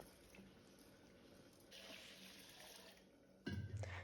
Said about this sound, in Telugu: వీటిల్ని బాగా వాష్ చేసుకొని నీళ్ళు పోసి ఆరు గంటల సేపు నానబెట్టుకోవాలి